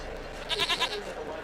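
A goat in The Witcher 3 lets out a short, wavering bleat of a few quick pulses, heard over a low background hum.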